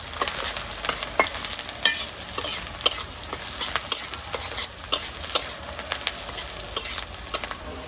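Chopped onion sizzles in oil in a kadai as it browns toward red, with frequent spatula scrapes and knocks of stirring over a constant close frying hiss.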